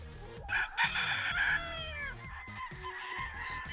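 A rooster crows loudly and close by in a single drawn-out call, followed by scattered softer clucks and farmyard noise, with no voices.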